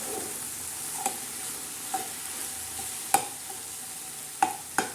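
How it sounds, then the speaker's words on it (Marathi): Fenugreek and potato bhaji sizzles steadily in a pan while a spoon stirs it, with a few sharp scraping clicks against the metal spaced through the quiet, even frying hiss. "तर एकदा आपण हलवून घेऊया परत, म्हणजे चव बाजूने शिजल्या जाईल."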